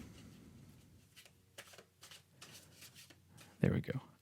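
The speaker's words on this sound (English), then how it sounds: "I'm actually going to keep shuffling." Tarot cards are shuffled close by in soft, irregular riffles and taps, ending in a louder burst of card flicks, with a voice speaking quietly underneath.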